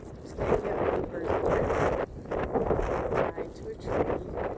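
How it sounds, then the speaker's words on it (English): Wind gusting through trees on a blustery, snowy day, a steady broadband rush swelling and easing in waves, close to the microphone with a dip near the two-second mark. "It's quite a windy, snowy, blustery day."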